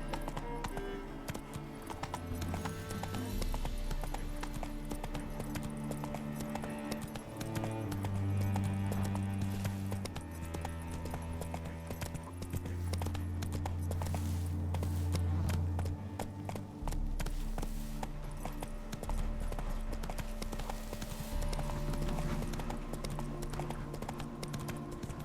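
Hooves clip-clop in a fast, steady gallop as a horse runs in The Witcher 3, the rhythmic beats sitting close under a continuous bed of game music with no voices.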